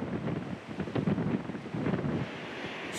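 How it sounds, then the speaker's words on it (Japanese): A strong west wind blows across a peninsula coast in Shimane, with rough whitecapped water on the shore. It roars and buffets steadily against the microphone, gusting in waves, and no voices are heard. "半島に西から風が吹きつける。"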